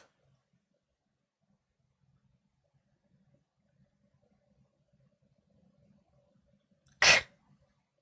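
A single sharp sneeze bursts out after several seconds of near silence, with only faint low background murmur before it.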